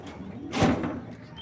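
Giribaz pigeons in a cage give one soft, low coo close by, with a faint rustle or scrape around it over quiet background noise.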